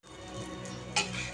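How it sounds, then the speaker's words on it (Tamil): Parotta frying in oil on a flat dosa griddle, a steady close sizzle across the whole stretch with a brief louder metallic scrape or clink near the end; no voices. "இப்போ தோசைக்கல்லில் நல்லா எண்ணெய் ஊற்றி சுற்றி தான் எண்ணெய் ஊற்றுறோம்."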